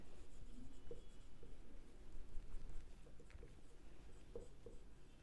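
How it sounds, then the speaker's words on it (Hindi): A pen writes by hand in a notebook, filling in an accounting cash book, with continuous soft scratching strokes and a few small taps, close and fairly quiet. "रुको नीचे थोड़ा लिखती हूँ"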